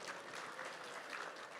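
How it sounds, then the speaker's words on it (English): An auction audience applauds a buyer, a steady wash of many hands clapping at once, filling the room evenly with no voices on top. "Let's give our buyer a big round of applause"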